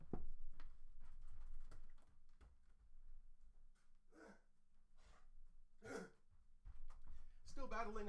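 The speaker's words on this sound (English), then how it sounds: "Still battling a cough." A man coughs and clears his throat several times in short, close, harsh bursts spread across a quiet stretch, with breaths and a few murmured sounds between them.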